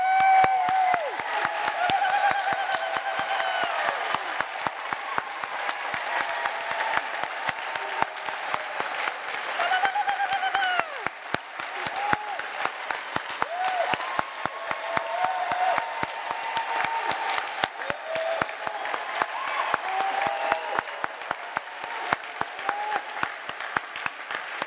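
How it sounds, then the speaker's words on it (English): Sustained audience applause at a medical school oath ceremony for MBChB graduates, a dense steady clapping crowd that lasts the full span with occasional cheers mixed in and no speech over it. "I'm sure that we can do a huge round of applause and celebration."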